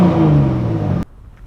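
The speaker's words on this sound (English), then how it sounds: "Let's give off a nice rev before we end this video." A Nissan 350Z engine revs loudly up close, a strong sustained roar with falling pitch that cuts off abruptly after about a second, leaving a quiet idle-like tail.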